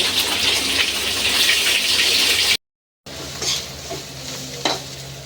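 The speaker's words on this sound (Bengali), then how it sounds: "এই মাছের ঝালের মশলাটা কষা হচ্ছে পেঁয়াজ আদা রসুন দিয়ে" Fish curry masala fries with onion, ginger and garlic in a loud, dense sizzle, cut off by a short gap of silence, then resuming more quietly with a few sharp utensil knocks.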